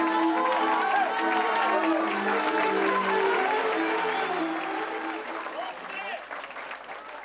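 Sustained applause from a theatre audience at a Balkan folk dance show, with some cheering mixed in; the clapping stays dense and loud throughout and eases off slightly toward the end.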